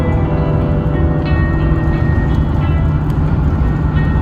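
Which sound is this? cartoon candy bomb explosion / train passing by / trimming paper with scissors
train passing by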